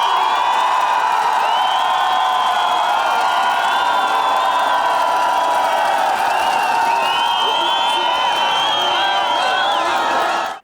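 Sports fans at a ski relay award ceremony cheer, whoop and clap in a loud, continuous crowd roar that holds for several seconds and fades abruptly at the end.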